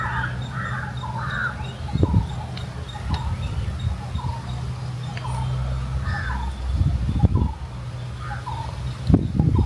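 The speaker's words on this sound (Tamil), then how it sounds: "என்ன குருவி கத்துது? செம்பூத்தான்." A greater coucal, or crow pheasant, calls outdoors with deep, booming hoots at spaced intervals over a steady background hum, while fainter bird calls sound higher up.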